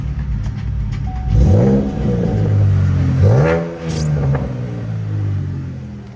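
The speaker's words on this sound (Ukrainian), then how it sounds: "Зараз запустимо двигун. Звучить він просто невідмінно." A 2013 Chevrolet Camaro engine starts and revs up loudly nearby, with deep rising and falling surges over a steady rumbling idle, no talking.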